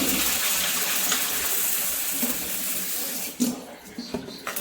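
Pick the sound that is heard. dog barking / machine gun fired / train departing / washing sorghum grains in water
washing sorghum grains in water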